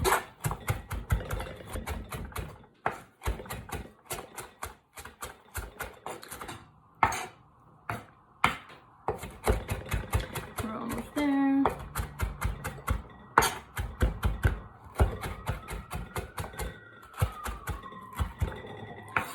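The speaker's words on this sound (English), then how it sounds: "It does get a little messy, but just keep chopping." A knife chops parsley by hand on a cutting board in quick, steady taps that run throughout, with a voice speaking briefly over the chopping, for a gluten-free tabbouleh.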